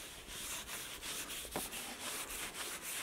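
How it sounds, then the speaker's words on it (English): A cloth rubs linseed oil into wooden boards for a high tunnel build, producing quiet, close, repetitive back-and-forth swishing strokes in a steady rhythm. "And I'm just gonna rub it in with the cloth."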